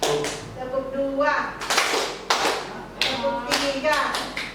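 Group clapping pattern at a teachers' training session, several sharp rhythmic bursts of hands clapping in counted sets, with voices speaking between and over them.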